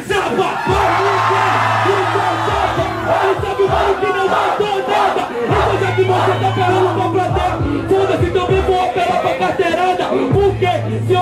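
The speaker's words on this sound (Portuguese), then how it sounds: "depois que eu perguntar quem morreu pra Jota, eles gritam chapa." At a Brazilian freestyle rap battle, a dense crowd shouts and chants loudly and close by in rhythmic waves, with whoops and yells over a booming beat.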